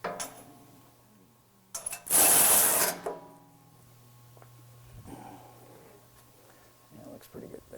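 Bolts securing a Go Rhino BR5 front bumper shell to its winch tray on a 2015 Ford F-series pickup are tightened with a ratchet, giving a loud burst of rapid metallic clicking amid quieter scattered workshop clatter.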